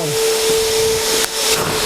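A steam cleaner used for car detailing in a garage hisses steadily with a thin whining tone running through it. A brief dip and burst come partway through, and there is no talking.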